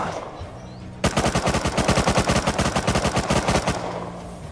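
Automatic gunfire in the survival game Rust, with steady rapid bursts of shots that start abruptly and continue for several seconds, loud and close, with no talk.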